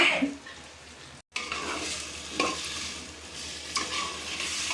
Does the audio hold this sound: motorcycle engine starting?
no